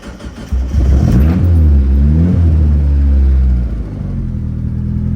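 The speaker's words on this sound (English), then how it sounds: "You'll notice how much quicker it starts up when the car is warm too." A warm turbocharged Mazda Miata engine, tuned for E85, starts quickly and settles into a loud, steady idle, close by with a deep rumble and no talking.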